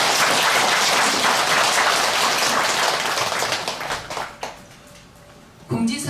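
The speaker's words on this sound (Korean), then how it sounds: "귀한 말씀을 해주신 덕일 주지스님께 다시 한번 감사의 큰 박수 부탁드립니다" A temple congregation at a Buddhist dharma service at Gilsangsa gives the head monk a big round of applause, dense clapping that fades out after a few seconds, then a brief noise.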